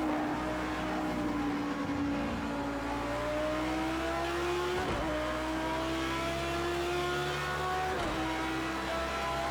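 Audi R8 LMS race car engine from Project Cars 2 at Le Mans, a steady loud high-revving drone with rising pitch sweeping through gear changes, another car closing from behind throughout.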